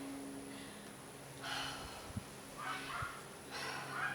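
A woman who is 12 weeks pregnant breathes in a labored way, taking several close, soft, airy breaths in a slow uneven rhythm with brief gasps between them. The sound is faint and there is no talking.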